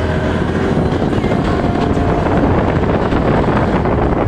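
Loud, steady wind buffeting the microphone while riding a scooter, a continuous roaring rumble with no break for about four seconds.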